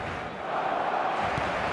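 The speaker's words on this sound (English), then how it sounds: "the matchday noise at this place is truly special" Stadium crowd noise from an eFootball mobile match, a steady loud roar of fans with a rising swell partway through, heard alone without commentary.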